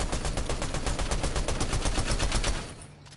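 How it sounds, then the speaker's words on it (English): Rapid automatic gunfire from a player in Fortnite, a dense, loud stream of close shots with a steady rhythm that cuts off near the end; no talking. "I'm shooting this."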